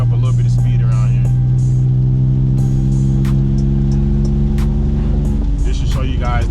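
A BMW E46 with a welded differential accelerates through a curve on wet roads, its engine humming steady and close from inside the cabin, with brief road noise and clicks.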